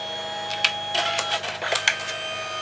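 A Canon SELPHY CP800 compact photo printer feeds paper in and out while printing, producing close, rhythmic mechanical clicks and whirring bursts over a steady motor drone.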